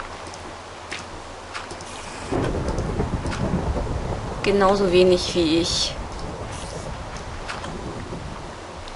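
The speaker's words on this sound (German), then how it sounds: "Gewitter hasse." A thunderstorm with rain in Minecraft: a steady rain hiss begins partway through and carries a rumbling roll of thunder, while someone talks over it.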